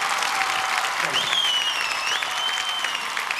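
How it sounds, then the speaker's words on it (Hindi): Studio audience on a Kapil Sharma comedy show claps loudly and continuously, a dense roar of applause with a few whoops and whistles rising above it. "जोरदार तालियां बजाइए"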